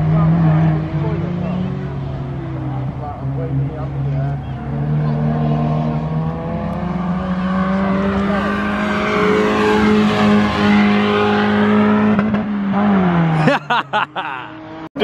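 A scrap-to-track Honda Civic EJ9 project car, trailing a little blue smoke, accelerates hard on a race track. Its loud engine note rises steadily through the revs for several seconds before cutting off abruptly with a few sharp clicks.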